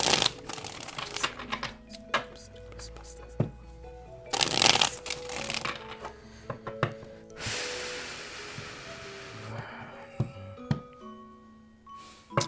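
Tarot cards shuffled at close range in repeated bursts of riffling and flapping, with soft taps and card slaps between them.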